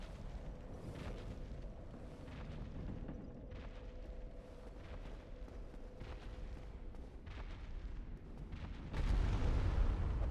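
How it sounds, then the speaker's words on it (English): Black fire bombs explode in Dark Souls as a string of muffled booms and bursts, one after another against a rumbling game background, ending in a much louder, heavier blast. "Black fire bombs make this a quick fight."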